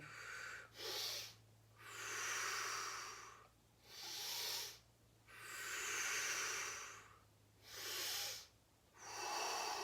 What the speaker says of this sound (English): Breathing into that center position and exhaling in either direction.